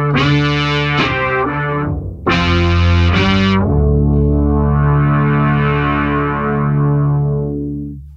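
BOSS SY-1 guitar synthesizer on a pad setting: thick, organ-like sustained chords, a few short stabs, then a long swelling held chord fading out at the end, loud and up close with no talk.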